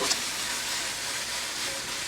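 Ingredients for egg foo yong frying and browning in a hot pan, a soft steady sizzle that holds evenly throughout with no talk.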